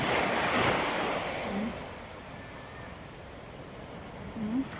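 Strong ocean surf crashing and rushing steadily at sunrise, with wind buffeting the microphone and a swell of louder wave noise near the end.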